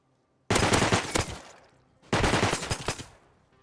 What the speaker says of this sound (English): I shot him down a few times and reloaded my weapon